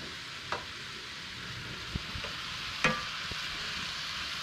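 Mushrooms and garlic cook down over medium heat in a pan. A steady close sizzle continues throughout, punctuated by a few sharp utensil taps and scrapes, and nobody speaks.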